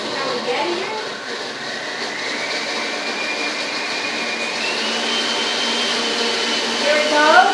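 A blender runs steadily on a coconut water and beet smoothie, a loud continuous whirring drone that holds its pitch with slight rises, filling the whole stretch without talk.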